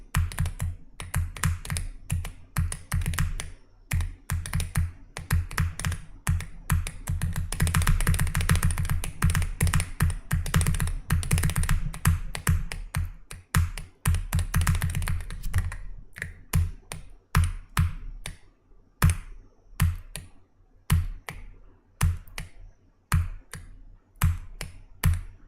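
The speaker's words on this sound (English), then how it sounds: "What's the keyboard? It's a Monsgeek M1W V3." Rapid typing on a Monsgeek M1W V3 computer keyboard during a cubing stream, with dense clacking keystrokes in bursts that grow sparser toward the end, close and clear with no talking.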